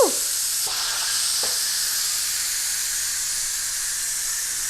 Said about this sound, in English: we're gonna release the steam from the pressure cooker